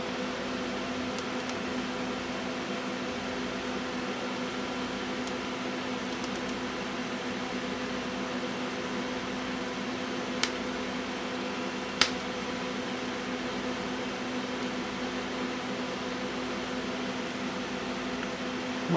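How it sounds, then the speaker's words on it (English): A TinselKoil high-voltage driver throws an electric arc onto a stainless steel cup, giving a steady buzzing hum at moderate level with a couple of sharp snaps near the end. "the arc is moving around on the stainless steel cup"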